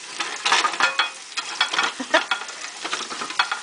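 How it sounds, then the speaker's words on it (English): Hush puppies and potatoes frying in hot oil for a fish fry, a steady crackling sizzle with irregular pops and bubbling, close and moderately loud, with no talking. "There is the hush puppies fry. There is the potatoes fry."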